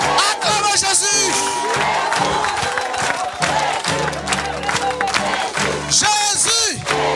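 A church congregation at a deliverance service cheers and acclaims loudly, a dense, sustained roar of many voices with shouts and whoops rising above it, near and continuous throughout with brief swells.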